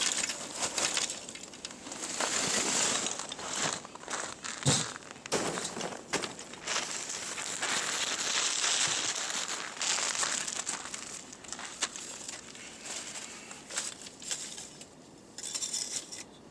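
Charcoal loaded into a chimney lighter for a Weber grill outdoors, with crunchy, rattling crumples and clinks as lumps shift and settle, close and fairly steady throughout with brief pauses.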